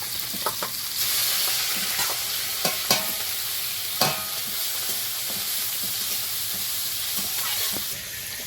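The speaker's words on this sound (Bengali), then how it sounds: "এপাশে কড়াইয়ে তেল দেওয়া আছে ভেজে দিই" Continuous loud sizzle of river fish coated in salt and turmeric frying in oil in a wok, punctuated by scraping and clinking as it's stirred.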